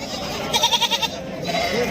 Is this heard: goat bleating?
yes